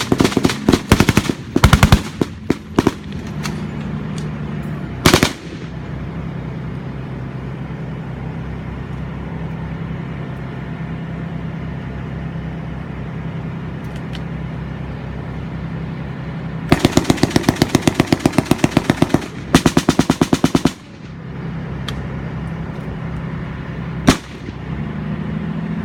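Rapid bursts of AK-47 automatic gunfire at a war reenactment held at a tank museum in Ontario, loud and close. A dense volley opens, a few separate shots follow, and a second long burst comes later over a steady engine rumble.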